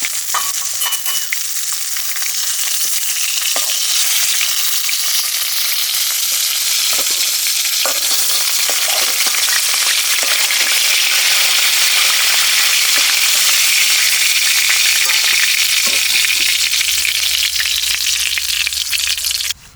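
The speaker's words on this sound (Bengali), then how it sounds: "দেখো মাছটা কত সুন্দর ভাজা হয়ে গেছে" Pomfret (rupchanda) fish frying in hot oil, a steady, loud sizzle that fills the whole stretch without letup, with a few faint clicks of stirring or turning and no voices.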